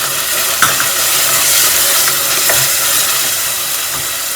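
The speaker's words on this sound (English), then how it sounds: "Once the ginger and garlic paste is fried well, we can add in our chopped tomatoes." Chopped tomatoes fry in ginger garlic paste, giving a loud, close, continuous sizzle and hiss, with a few soft stirring knocks and scrapes against the pan.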